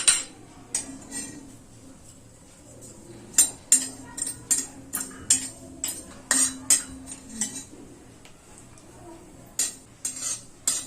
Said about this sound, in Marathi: आता आपण त्याच्यामध्ये खसखस भाजून घेऊया.